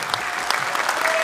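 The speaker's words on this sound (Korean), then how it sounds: "이현주 의원에게 다시 한번 큰 박수 부탁드립니다" Steady, dense applause from a large crowd at a political party launch event, filling the hall evenly at close range with a bright continuous wash of many hands.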